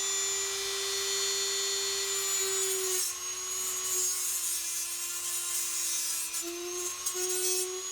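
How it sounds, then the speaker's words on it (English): A Dremel fitted with a diamond cutting wheel whines loudly and steadily as it cuts, the high-pitched tone dipping slightly under load, close and without talk. "And I fire up the Dremel. The Dremel's just got a cutting wheel on it."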